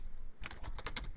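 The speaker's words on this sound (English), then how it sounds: "it's me typing" Fingers type on a computer keyboard, a quick close run of about six key clicks over a steady background hiss.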